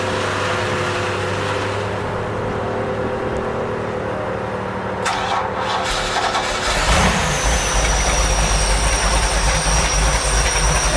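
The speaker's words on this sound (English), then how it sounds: "so I'm going to start the starboard engine first" A supercharged big-block inboard boat engine, the starboard one, cranks and fires, settling into a loud, steady low rumble that fills the second half, with a constant mechanical drone beforehand.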